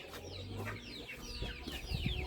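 A mother hen clucks low and close while her chicks and ducklings peep in quick, high, repeated chirps beneath her.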